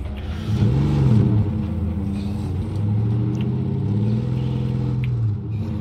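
A car engine in State of Decay 2 revs up loudly and holds a steady, throaty rumble, rising and falling in pitch over several seconds, close and with no talk over it.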